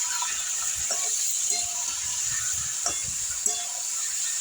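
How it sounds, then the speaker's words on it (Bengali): Marinated chicken frying in hot oil gives a steady, close hiss with faint crackles and a few soft clicks of stirring. "মাংসটা এবার একটু ভেজে নেবো"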